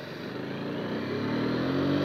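A motorcycle engine drones steadily and close, rising slightly in pitch as it pulls away in first gear, with no talk over it.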